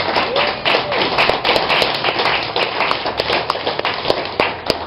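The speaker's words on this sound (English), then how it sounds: "first I would like you to recognize that with some applause" A crowd of people applauds a newly announced hospital president, a dense, steady round of clapping lasting the whole stretch with sharp individual claps standing out.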